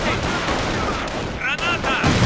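Dense battlefield gunfire and explosions rumble continuously in the World War II strategy game Company of Heroes, with radio-style unit voices chirping briefly over the din.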